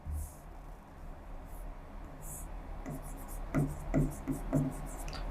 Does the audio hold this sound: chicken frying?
no